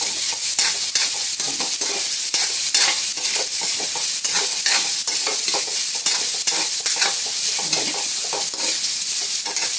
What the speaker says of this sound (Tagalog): Pwede na natin ilagay yung ating bawang sibuyas